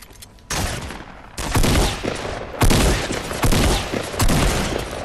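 Fortnite gunfire erupts in dense bursts of rapid shots, several loud volleys separated by brief gaps, close and harsh with no talk.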